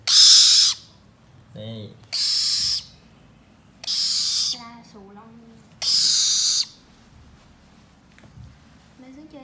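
A pet bird calls in repeated bright, loud bursts with pauses between them while playing with Bonnie indoors, and a person speaks briefly between the calls.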